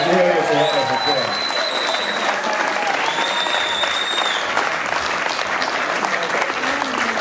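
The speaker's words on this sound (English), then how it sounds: "Give yourselves a round of applause." Audience applause fills the room at a music Hall of Fame induction ceremony, a steady, dense wash of clapping with whoops and cheers rising over it throughout.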